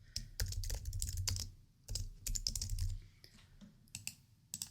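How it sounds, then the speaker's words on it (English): Close computer keyboard typing while a payment description is entered in QuickBooks Online, with clustered bursts of rapid keystrokes broken by short pauses, and no voice. "And then the description here, I like to type something."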